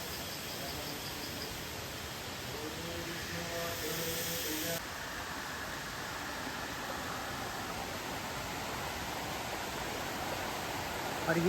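Rushing water from a waterfall beside the Panchalingeshwar temple in Balasore forms a broad, steady hiss of noise, continuous and fairly close, with a brief brighter band partway through.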